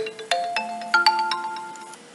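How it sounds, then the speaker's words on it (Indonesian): A mobile phone ringtone plays for an incoming call: a bright electronic melody of quick notes that rings out clearly and alone, without voices. "ada panggilan masuk di HP saya"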